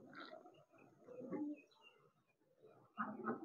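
Pet pigeons feeding on corn give soft, low cooing calls in short phrases, with brief pauses between bursts, close by and fairly quiet.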